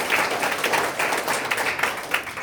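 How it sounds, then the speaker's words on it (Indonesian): Audience applause during a motivational talk, with close, brisk clapping from a modest crowd that pulses unevenly through a short burst. "Tepuk tangan dulu ya"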